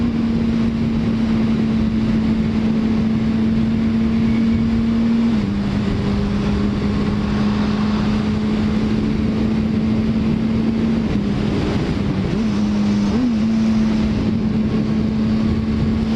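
Motorcycle fitted with rearsets and a gear indicator runs steadily on the road, its engine drone holding a constant pitch with brief dips as it shifts through the gears, wind noise rushing over it with no one talking.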